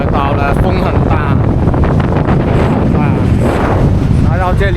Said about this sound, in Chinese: 来到这里啊，海风非常大